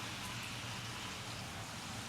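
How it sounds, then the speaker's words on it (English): Heavy pouring rain on an autumn day, a dense steady hiss of downpour that stays at a constant level throughout, with no voices. "Pouring rain."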